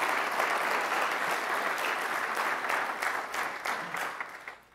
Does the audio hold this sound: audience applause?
yes